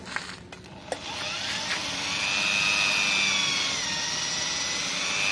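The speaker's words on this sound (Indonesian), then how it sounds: "Kemudian kita mulai mempraktekkan untuk mengebur." An electric drill with a steel bit bores into a steel channel, starting with a few clicks and a short whir before settling into a steady, loud grinding whine that builds and holds to the end.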